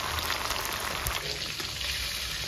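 Chicken pieces frying in oil for Rajasthani jungli chicken, browning lightly with ginger and garlic: a steady, even sizzle with fine crackling that continues throughout at moderate level.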